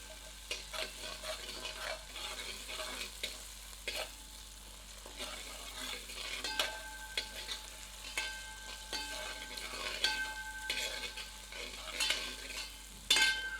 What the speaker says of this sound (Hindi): इन्हें 3 से 4 मिनट मध्यम आंच पर भूनते हैं।